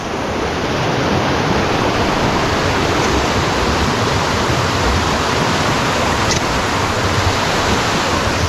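Loud, steady roar of rushing floodwater surging during a typhoon, a dense continuous wash of noise with no break, close by and filling the whole scene.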